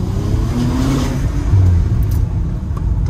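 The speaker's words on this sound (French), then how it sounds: "T'entends que Turbo il a pas chargé à fond encore" A Bentley Continental GT W12 in sport mode accelerates on roughly 70% power before the turbo is fully spooled, a steady loud low engine rumble and drone that swells slightly midway, heard from inside the car with no talk.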